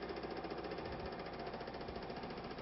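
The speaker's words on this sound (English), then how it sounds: "I'm going to bead loosen the bottom bead first." Hunter TC3500 tire changer loosening the bottom bead of a bead-lock wheel, a rapid steady mechanical chatter and motor hum, fairly faint and continuous without pauses.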